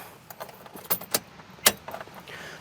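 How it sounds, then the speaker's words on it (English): A bunch of car keys jangling and clinking close by as the key is turned on in the ignition, a few uneven metallic rattles with one sharp clink standing out. "If I reach in and flip the key on"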